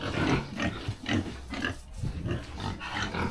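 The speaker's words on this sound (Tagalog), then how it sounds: "Ito, mga baboy natin." Pigs on a farm grunt and snort in a steady series of low, rough calls close by, with no talk over them.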